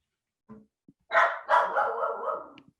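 A dog gives a short sharp yip, then a long, loud, drawn-out bark or howl, close and clear in a quiet room with no talking.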